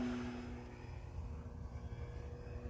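FMS Pitts V2 1400mm RC biplane flying low through a turn, its electric motor giving a steady buzzing drone with a brief throttle change, moderately faint and continuous throughout.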